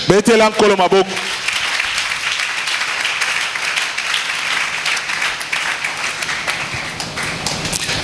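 Church congregation applauding, a dense sustained patter of many hands clapping after a brief sung or spoken phrase at the start, loud and continuous to the end.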